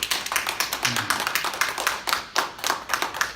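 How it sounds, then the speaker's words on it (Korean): Participants of the final session of a network-marketing class clapping for themselves, a brisk burst of applause from a small group with a voice briefly heard. "자, 자기 자신을 위해서 박수 한번 보내줄까요?"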